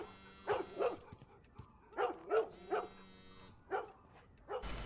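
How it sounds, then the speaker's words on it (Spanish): A dog barks in the video game The Last of Us, several distinct barks in uneven pairs and singles at moderate distance, with a brief burst of noise at the very end. "Suena el perro, pero no se le ve por ningún lado."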